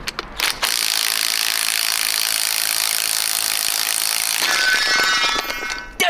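A pneumatic impact gun rattles a nut off a car's compressed suspension spring outdoors near a fence, a loud continuous buzzing burst running several seconds after a short start, then ending in clanks and scattered metallic knocks.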